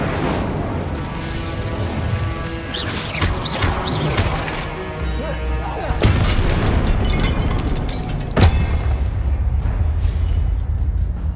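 Confringo spells are cast in Hogwarts Legacy amid Expelliarmus and Incendio in a tower battle: repeated bursts and crashing impacts over dense, continuous combat noise, with a sharper blast near the end.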